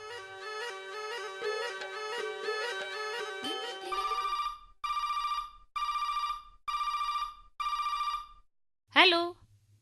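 A telephone rings in repeated bursts, a loud electronic bell pattern with short gaps, after a stretch of tonal music; a brief voice follows at the end.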